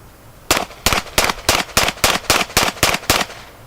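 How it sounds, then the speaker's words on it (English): A semi-automatic handgun fired ten times in quick succession at a target during a shooting lesson, each sharp, loud crack evenly spaced about a third of a second apart, with no talking. "Held the gun out with two hands, aimed at the target, fired off 10 shots as fast as he could."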